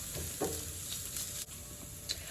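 Onions, garlic and kale frying in a pan, a steady close sizzle with a few soft clinks and stirring scrapes.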